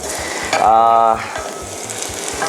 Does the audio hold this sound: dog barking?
no